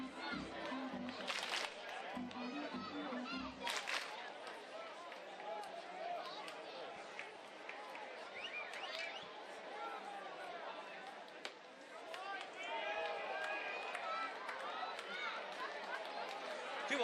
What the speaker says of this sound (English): nearly hit him. Crowd reacts.